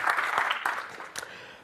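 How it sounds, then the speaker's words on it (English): An audience at a FOSDEM 2017 tech conference talk claps in a dense burst of applause that thins out and fades within a couple of seconds. "can we give a round of applause to our organizers for this?"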